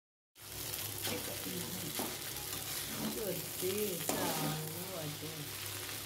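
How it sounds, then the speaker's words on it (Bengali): Vegetables and egg sizzle steadily while frying for chowmein, a continuous close crackle with occasional stirring scrapes and faint voices in the background. "ডিম দিয়ে ভেজে ভেজে তারপর সবকিছু ভাজা হয়ে গেলে চাউমিনটা"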